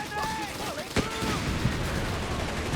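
Gunfire from the Company of Heroes 3 real-time strategy game, with a sharp loud burst and scattered shots in the middle of steady battle noise, beneath voice chatter and whistling sound effects.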